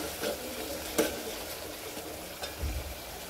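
Oil tempering for a spicy-sour tomato toor dal sizzles softly in a pan, with a low steady crackle broken by a few stirring scrapes and clinks, close by and without talk.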